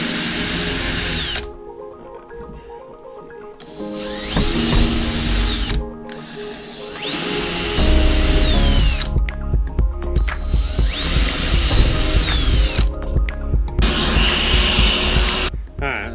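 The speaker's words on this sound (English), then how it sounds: "I'm gonna just drill a pilot hole through the plywood and through the aluminum." Power drill boring pilot holes through plywood and aluminum while mounting fish finders on a jon boat, several loud whining bursts separated by short pauses and quieter handling noise, with a voice talking between them.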